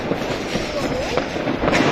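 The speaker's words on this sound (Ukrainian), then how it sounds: "Красиво, бахкає по, по всьому місту, по всьому місту бахкає." New Year fireworks bang across a city, with scattered booms and crackles rolling in from a distance beneath a steady background wash.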